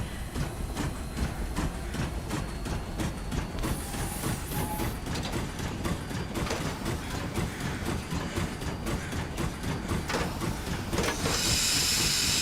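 A steam train in The Long Dark video game, hissing steadily with a rhythmic rail clatter throughout and a louder burst of steam release near the end.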